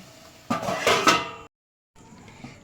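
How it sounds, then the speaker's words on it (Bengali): A metal lid clanks onto a cooking pot of taro curry, a short ringing clatter of cookware up close, followed by silence and then faint kitchen sound. "এবার আমি চাপা দিয়ে দিচ্ছি"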